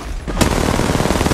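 Sustained burst of automatic gunfire in a mobile shooter game on iPhone, a sharp onset followed by dense rapid shots that continue steadily to the end, loud and close with no talking.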